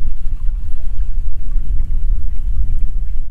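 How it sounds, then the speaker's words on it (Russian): Strong wind gusts across a cold riverside camp on the Ili River, buffeting the microphone with a loud, continuous low rumble that swells and dips for the whole stretch, with no voices. "Начался сильный ветер и прям дует"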